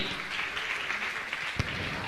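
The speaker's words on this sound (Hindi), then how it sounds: "जोरदार ताली बजाकर उनका सम्मान करें" An audience at a Jain religious gathering applauds loudly, steady dense clapping filling the whole stretch with one sharper clap standing out near the end.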